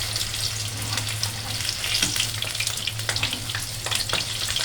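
Corn vada frying in preheated hot oil, a close, steady sizzle and crackle with occasional brighter pops and a low hum underneath.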